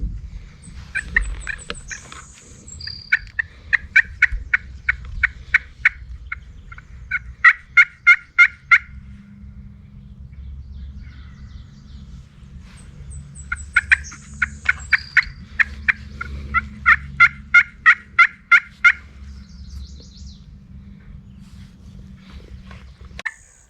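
A wild turkey tom gobbles in repeated rattling bursts, answering calls during a spring hunt in Maine, sounding moderately distant over a low outdoor background, with several gobbles spread across the stretch.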